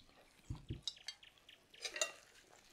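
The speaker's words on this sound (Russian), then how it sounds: "Когда вливаю яйцо, все перемешиваю здесь" Spoon stirring beaten egg into a simmering spring nettle and chicken soup: a couple of low thuds, then light scraping and clinking against the pot, soft and close with no voices.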